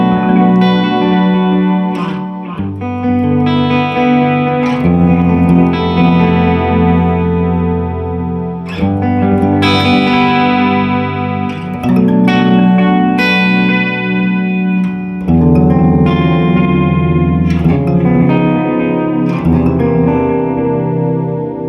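Electric guitar played through a Suhr Discovery analog delay pedal with modulation, sustained chords and picked notes trailing warm repeating echoes and a wavering chorus-like shimmer, loud and continuous with no talking.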